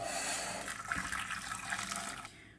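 Boiled water pours over tomatoes, a steady liquid stream for about two seconds, close and moderately loud, with small splashing bubbles before it stops abruptly.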